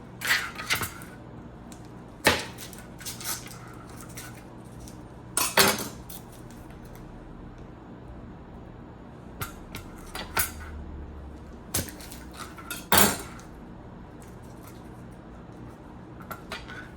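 Cutlery clinks and scrapes against a dish in sparse, sharp bursts with quiet gaps while butter is dotted on top of a pumpkin stuffed with cranberries, apples and walnuts.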